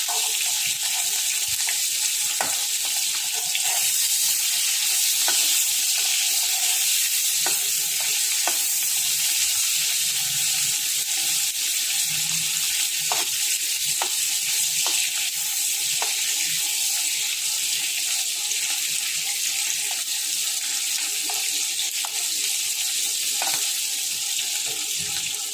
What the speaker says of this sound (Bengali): শুটকিটা ভালো করে ভাজা করলে না বেশ ভালো লাগে খেতে